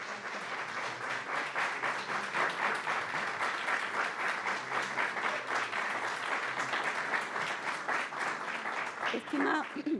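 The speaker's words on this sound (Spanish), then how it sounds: "recibe el aplauso del público de la comunidad universitaria que hasta ahora repleta el auditorio" Sustained applause from a packed university auditorium audience at an award ceremony, dense steady clapping for ten seconds at even strength, with a voice faintly present beneath.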